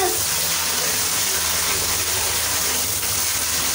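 Strong, steady gush of running water from a tap, loud and continuous throughout with no pauses.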